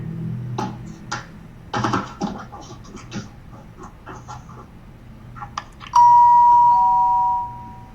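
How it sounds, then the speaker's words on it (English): After several seconds of faint shuffling and scratching, a single doorbell chime rings out clearly at 3 a.m. and fades away. "ringing the doorbell at 3 in the morning."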